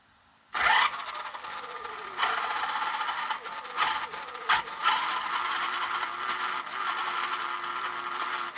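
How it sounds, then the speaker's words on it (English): An Arrma Kraton RC car motor on a repair workbench gets bursts of throttle, a close mechanical whine with gear and ratchet-like chatter that surges several times and then holds steady. "I'm going to give it a little throttle."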